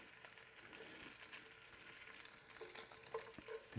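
Eggs and bacon fry in a pan for an omelette, a steady crackling sizzle with dense popping and spitting throughout, fairly close and faint, with no voices.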